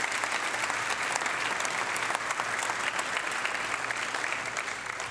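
Sustained, dense applause from an audience at an evening county address, honoring attending guests; steady, full and even for the whole stretch, fading slightly at the end, with no clear talk over it.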